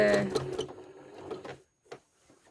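A sewing machine stitches serpentine wave lines across a quilt, a close, busy mechanical whir running steadily for over a second and a half before stopping, followed by a brief faint tap and near silence.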